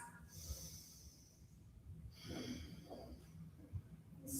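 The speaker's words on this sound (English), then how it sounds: "Big breaths" Big deep breaths during a power vinyasa yoga session for hips and shoulders, soft breathy exhales and airy hisses close by, repeated slowly and faintly.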